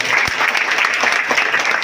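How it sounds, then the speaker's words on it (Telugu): Loud, dense crowd applause at a flood relief distribution event honoring Madhu, sustained clapping filling the space with no talk over it. "దానికి మనస్ఫూర్తిగా మధుని చప్పట్ల ద్వారా అభ్యర్థించమని కోరుతాం"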